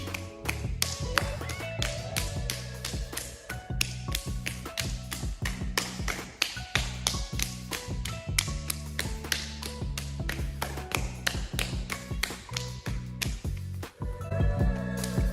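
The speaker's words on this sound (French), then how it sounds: "Donc les mains tapotent de manière symétrique" Rapid, steady slapping of open hands symmetrically against the shins and calves in a percussion warm-up, many quick even taps in a continuous rhythm over some background tones.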